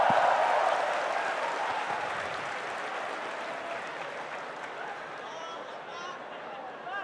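Audience applause at a university Islamic moderation Q&A session, a broad wash of clapping that starts loud and tapers gradually over several seconds, with murmuring and talk beneath it.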